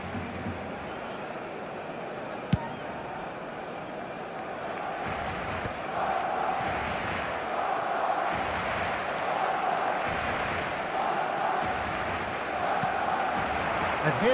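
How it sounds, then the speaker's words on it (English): A packed stadium crowd in the football video game eFootball 2025 swells into a loud, sustained roar of reaction under continuous match commentary, with a single sharp knock early on. "The crowd reaction tells you just how close"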